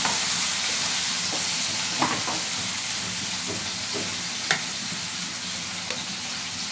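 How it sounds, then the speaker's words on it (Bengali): Onions and green chillies fry in a pan, a loud, close, continuous sizzle and hiss with occasional scraping taps of a spatula stirring. "পেঁয়াজটাকে একটু ভালো করে ভেজে নেব।"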